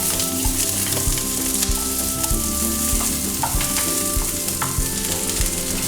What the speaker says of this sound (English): So we mix our onion and green pepper and fry it a little bit.